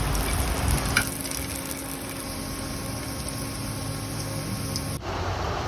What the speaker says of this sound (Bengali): একই তেলে আবার মুই আলু আলুটারও একটু বাজা দিতে আছি